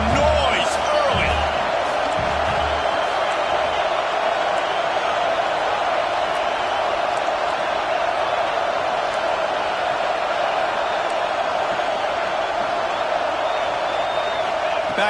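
A large stadium crowd at a college football game at LSU roars steadily, a dense, unbroken wall of cheering and noise heard from within the stands, with a commentator talking over it.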